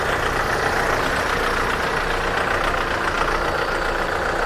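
A Kubota tractor's diesel engine runs at a steady idle close by, a dense, even mechanical rumble and clatter holding without change throughout, with no voices.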